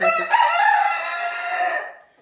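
A hen of a Poltava breed crows and clucks close by in a farm setting, a loud, drawn-out call with rising and falling harmonics that fades out at the end, with no voices.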